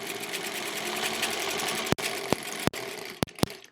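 A sewing machine stitches quilt-as-you-go blocks with a quarter-inch seam through thick layers of fabric, running as a fast, steady close whir before stopping and starting in several short bursts.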